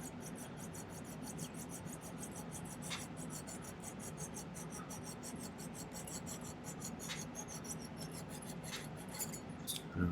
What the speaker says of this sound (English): Let me go grab my saw.